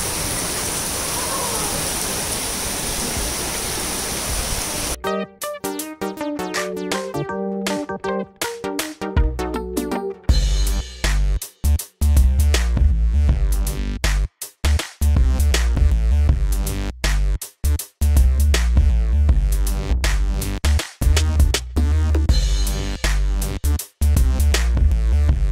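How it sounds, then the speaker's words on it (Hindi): Heavy rain pours outdoors as a dense, steady hiss for the first few seconds, then loud music takes over and masks the downpour for the rest of the clip. "बारिश होती जा रही है अब तेज"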